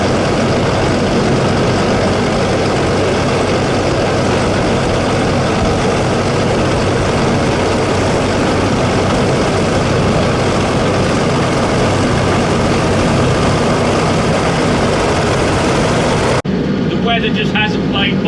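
A big V8 harvester engine runs at a steady loud roar in a wheat field, a constant low rumble with broad mechanical noise that holds unchanged before a brief drop at the end.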